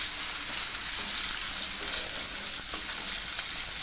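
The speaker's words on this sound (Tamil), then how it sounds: "வெங்காயம் நல்லா வதங்கிடுச்சுங்க." Steady, close sizzling of onions frying in a hot pan, a constant crackling hiss throughout with no voices.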